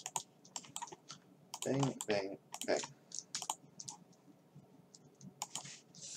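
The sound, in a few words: typing on a computer keyboard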